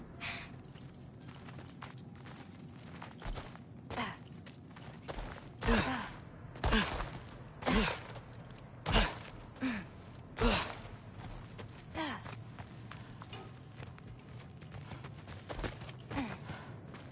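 In God of War Ragnarok, heavy rhythmic breathing, like deep sighs and snorts, rises and falls from something lurking in a cellar, each breath distinct and spaced a second or so apart over a low ambient hum.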